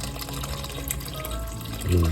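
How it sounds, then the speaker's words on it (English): Water poured from a container into a simmering pot of beef shank soup, a steady splashing pour that stays fairly even, then grows louder and lower toward the end as the pot fills. "Let's add some of the water here."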